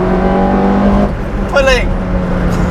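A modified classic Peugeot 205 GTI engine revs hard past 6,000 rpm, a steady droning note climbing into a brief rising whine, with someone talking over it throughout.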